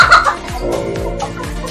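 Several chickens cluck in a poultry shed, a series of short throaty clucks repeating roughly every half second, close and fairly loud, with no talking.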